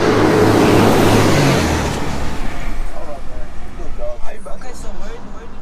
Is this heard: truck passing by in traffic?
yes